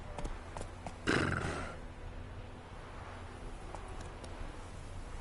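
Roach, a horse in the video game The Witcher 3, lets out a short, louder burst of hooves and a whinny early on, then fades into a quieter, steady bed of game ambience.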